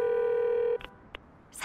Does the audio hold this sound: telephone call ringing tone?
yes